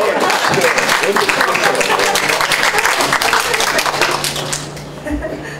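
A lecture audience at a Korean book-launch talk on social welfare breaks into loud, dense clapping close to the microphone. It holds steady for several seconds, then thins and fades near the end.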